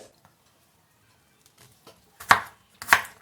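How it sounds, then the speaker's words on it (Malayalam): A knife cuts raw mango into small pieces on a board, a few faint taps followed by two sharp, loud chops near the end. "ഇതിനെ നമുക്ക് ചെറുതായിട്ടൊന്ന് കട്ട് ചെയ്തെടുക്കാം"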